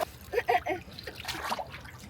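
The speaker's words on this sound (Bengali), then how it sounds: "এই তো রায়ান একটা ডুব দিচ্ছে।" A child ducking under the water of a swimming pool, with a few close splashes and sloshing followed by softer trickling, mixed with voice-like sounds.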